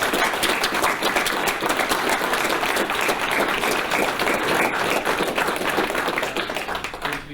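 Sustained applause from the audience at a military inactivation ceremony, dense and steady clapping that holds for several seconds before thinning slightly at the end.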